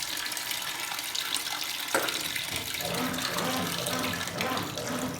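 Water runs steadily into a Consul Super Cargo 8 kg top-loading washing machine (CWL08C) loaded with towels, a continuous rushing fill with a brief knock partway through.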